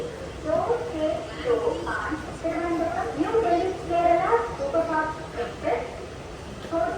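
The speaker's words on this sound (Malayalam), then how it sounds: "ഇവിടെ കേരള എക്സ്പ്രസിൻ്റെ അനൗൺസ്മെൻറ്റ് കേൾക്കുന്നുണ്ട്" A public-address announcement for the Kerala Express plays at Changanassery railway station in Kerala: a steady, echoing voice talks continuously over a constant background hum of the platform.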